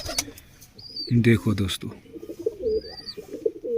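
Pigeons kept by a pigeon club coo in soft, low rolling calls, with scattered chirps and whistles around them and someone speaking over the sounds.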